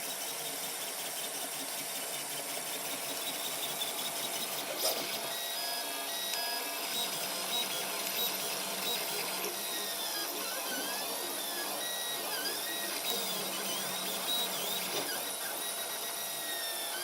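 A 3D printer runs steadily, its stepper-driven feeding mechanism whining in rising and falling motor tones over a constant mechanical hum, close and alone.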